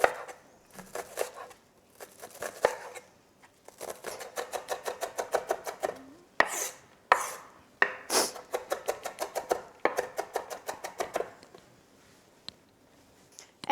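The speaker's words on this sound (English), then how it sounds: "And then all your onion doesn't fall apart while you're cutting it." A knife chops an onion on a board for a Russian dumpling filling, in quick, regular runs of sharp chops separated by short pauses. The chopping is close and clear with no talking.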